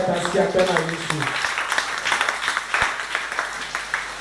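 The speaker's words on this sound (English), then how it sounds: "So clap your hands unto the Lord." Hands clapping along in a church worship service, a steady rhythmic patter of many people close by, with voices and singing in the first second and talk carrying over the clapping.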